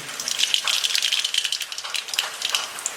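Mustard seeds hit hot oil while a drumstick (shevga) vegetable dish is cooked, giving a steady, bright, crackling sizzle dotted with quick pops that holds throughout.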